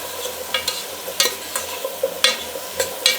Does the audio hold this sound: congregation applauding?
no